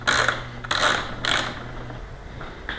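Body panel fasteners on a 2009 Suzuki GSX-R 750 motorcycle are tightened, giving three quick, close bursts of ratcheting clicks followed by quieter handling noises.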